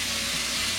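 Spices sizzle and crackle in a hot pan while crab is being cooked, a brief, steady frying hiss heard close, with no voices.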